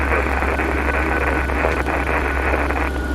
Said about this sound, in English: Listen to them engines purr.